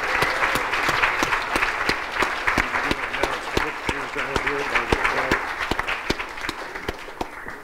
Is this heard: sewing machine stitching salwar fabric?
no